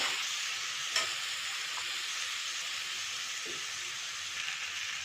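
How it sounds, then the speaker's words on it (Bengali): Spice paste with added water sautéing in a home kitchen pan, a soft continuous hiss and sizzle with a few brief spoon scrapes and knocks, fairly quiet and steady throughout. "ভালো করে এটা কষে নেব বন্ধুরা"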